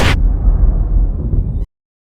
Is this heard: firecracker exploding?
yes